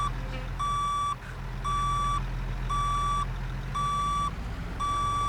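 A truck's backup beeper in American Truck Simulator pulses in regular, loud, evenly spaced beeps over a low idling diesel engine rumble.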